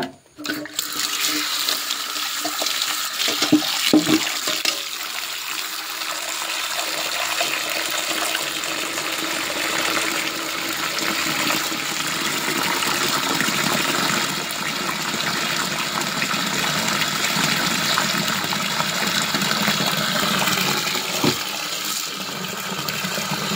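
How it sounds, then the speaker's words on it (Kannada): Water poured steadily into a bucket of cow dung, a loud continuous gushing splash that barely changes for over twenty seconds, close to the listener with no talk. "ಬಕೆಟಿಗೆ ಸಗಣಿಯನ್ನು ಹಾಕಿ ಈಗ ಅದಕ್ಕೆ ನೀರನ್ನು ಹಾಕಬೇಕು."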